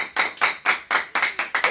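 Audience at a political evening event with a presidential candidate claps in a quick, steady rhythm, about four sharp, close claps per second in an even beat.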